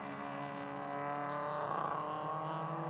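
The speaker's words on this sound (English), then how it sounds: "That little crackle you heard is kind of that breaking up that he may be dealing with." A race car engine in a Formula Production class at a national championship road race drones steadily at a distance, its tone breaking up slightly with a faint crackle from a misfire, fairly quiet and without voices.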